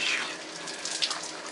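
Water runs steadily from a tap into a bath being filled for bathing, a continuous close hiss and splash with no talk.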